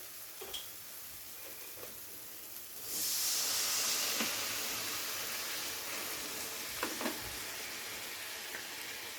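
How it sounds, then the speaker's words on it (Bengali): Water pours into a pan of frying tomato and spice masala for a Bengali katla fish curry, setting off a loud, sudden hiss of steam and sizzle that settles into a steady, slightly fading bubble, with a few faint clinks. "এবার এখানে দিয়ে দেব পরিমাণ মতো জল।"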